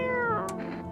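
A cat meows in the video game No, I'm Not a Human: one drawn-out, close, clear meow with a falling pitch, heard alone with no talk over it.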